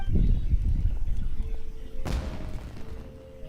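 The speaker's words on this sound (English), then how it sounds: "Was that an explosion? It sounded like fireworks." In Genshin Impact, a firework blast goes off: a rumbling low barrage followed by one sharp crackling bang, then a lingering ringing tail fading away.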